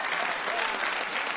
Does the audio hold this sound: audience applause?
yes